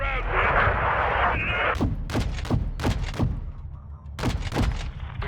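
Heavy gunshots boom in a video game firefight on Veteran difficulty, a series of sharp, loud blasts with echoing tails spaced unevenly, following a stretch of crackling noise and with a brief spoken word among them.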